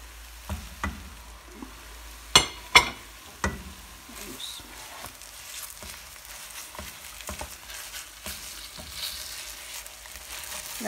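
Khoya roasting in a pan for Pakistani makhandi halwa, with soft sizzling and scraping stirs plus a few sharp utensil clinks near the start, close and fairly quiet, no talking.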